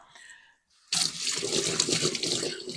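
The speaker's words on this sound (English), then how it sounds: "And I have to wash my hands off." Tap water runs steadily into a kitchen sink as hands are washed while making sheet pan gnocchi, starting abruptly after a brief quiet moment and continuing as a close, even hiss with no talk.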